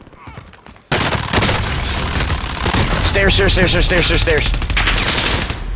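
Gunshots in Call of Duty: Modern Warfare on Rebirth Island, a sudden loud onset of sustained rapid automatic fire that continues for several seconds, with a brief spoken word and overlapping game sounds.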